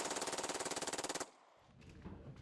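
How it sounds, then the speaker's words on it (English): Fully automatic fire from an illegally converted handgun machine pistol, a rapid, even stream of around twenty-five loud close shots in just over a second, then abrupt quiet with faint background noise. "handguns being illegally converted into fully automatic machine pistols, some of which can fire over 30 bullets in 2 seconds"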